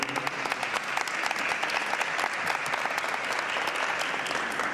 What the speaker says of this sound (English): Let's give him a better clap